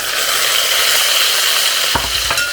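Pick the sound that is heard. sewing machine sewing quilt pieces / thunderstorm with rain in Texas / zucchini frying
zucchini frying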